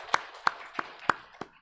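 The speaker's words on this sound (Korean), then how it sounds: "하나님께 영광의 박수를 올려드리겠습니다" Five sharp, evenly spaced claps at a steady beat during a Korean Sunday church worship service, crisp and fairly close, with quiet room tone between them.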